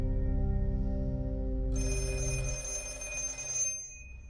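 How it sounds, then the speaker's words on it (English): A telephone in a film scene rings with a bright metallic bell burst lasting about two seconds, sounding over a low rumbling bed of film audio, moderately loud and close. "Was it the phone in his room ringing or the phone in their house?"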